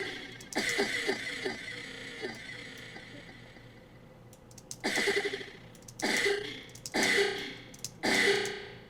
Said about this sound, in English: I'm using the cough again. So I really like turning up the feedback with this one